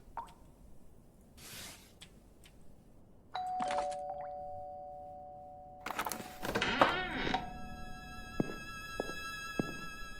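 Doorbell chime rings out amid drips and plopping sounds, a bright tonal ding followed by ringing harmonic tones, set against sparse eerie background effects.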